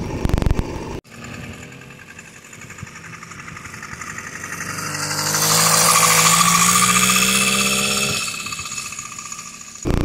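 A motorized bicycle engine mounted on the rear swing arm of a full-suspension bike runs steadily close by, its buzzing note rising and swelling mid-ride before easing back, with no talking.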